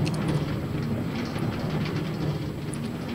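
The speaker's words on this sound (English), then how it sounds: "No way, you can go on the monorail." A monorail train running in a Minecraft Disney World build, a steady rumbling rail clatter with faint rhythmic clicks throughout.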